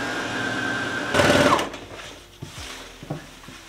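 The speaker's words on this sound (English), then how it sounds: "I'm going to sew up the inside seam." A sewing machine runs a short burst while sewing the inside leg seam of patchwork trousers made from scrap fabric, a brief close whirr followed by a few soft handling knocks.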